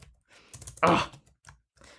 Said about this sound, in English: I'm having a hard time typing it today